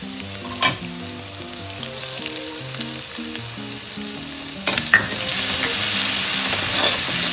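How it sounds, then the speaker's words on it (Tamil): Onion, ginger, garlic and green chili sizzling as they are sautéed over high flame in a pan, with continuous frying crackle and scattered clinks and scrapes of a spoon stirring. "ஹை ஃப்ளேமில் கொஞ்ச நேரம் வதக்கிட்டோம்."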